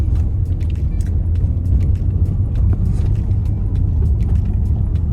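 A car drives along Berry and Main Street in Norman, Oklahoma, heard from inside as a steady low road rumble and engine drone, with faint ticks and rattles over it and no talking.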